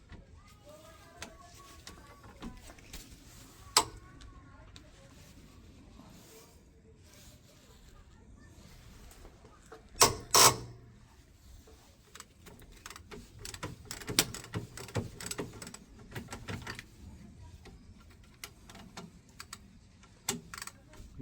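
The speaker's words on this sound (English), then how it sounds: "we're going to use a 17mm socket to undo these two bolts" A 17mm socket working loose the brake caliper bolts on a Nissan Note, with quiet scattered clicks, a loud metallic clatter midway, then bursts of rapid ratcheting clicks.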